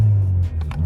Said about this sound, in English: and the car ticks very well.